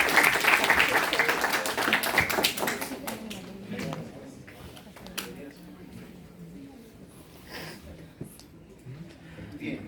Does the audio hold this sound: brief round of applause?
yes